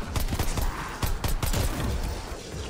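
Rapid pistol gunshots in a Call of Duty Zombies game, a burst of sharp close-range cracks firing in quick irregular succession with mechanical clatter, loud and continuous throughout.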